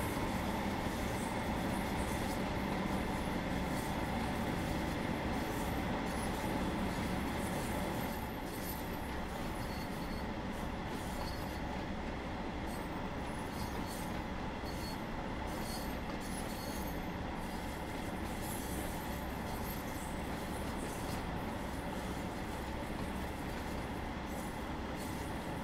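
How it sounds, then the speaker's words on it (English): Train wheels squeal steadily on a West Cornwall local route in Train Sim World 2, a continuous metallic screech over rolling rail noise that stays loud and unbroken throughout, with no talking. "I could just sit and listen to that all day. Just the squealing of the wheels."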